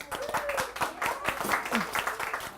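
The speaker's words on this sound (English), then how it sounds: "now we'd like to applaud you as the artists of these beautiful storybooks" Short burst of clapping for young storybook artists, distinct individual claps in an irregular rhythm from a small group, a voice heard briefly among them.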